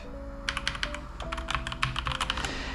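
Fingers type on a Logitech Pro X TKL keyboard with brown switches, a rapid run of crisp, close key clicks over a low background hum, with no voices.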